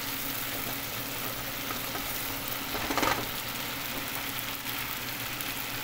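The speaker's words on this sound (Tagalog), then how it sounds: "Igisa lang natin." Chicken and crushed tomato seasoned with salt and pepper being sautéed in a pan for balonan ng manok, a steady close sizzle throughout with a brief louder stir near the middle.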